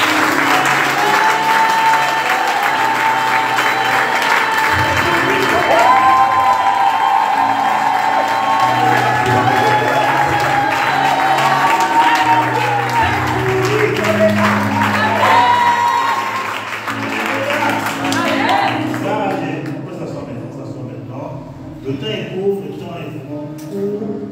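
Congregation at a revival meeting in Rabat, Morocco, applauding and cheering loudly with whoops and shouts, a sustained dense wall of clapping that fades down near the end as voices take over.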